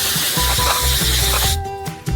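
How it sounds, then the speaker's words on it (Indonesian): Liquid nitrogen sprayed from a can onto hot caramel, a loud steady hiss with a faint rhythmic mechanical ticking underneath, cutting off near the end to a quieter hum. "semprotkan nitrogen langsung ke dalam karamel panas"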